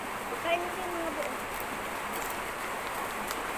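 Heavy rain pours steadily as a dense, unbroken wash of noise throughout, with a few faint higher clicks and tones scattered over it.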